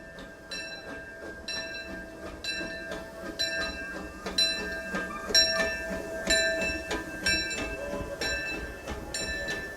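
Disneyland steam train moving on a rainy day, with a steady rumble, repeated rhythmic metallic clanks and clatter, and a sustained tonal ring, fairly close and continuous without talk.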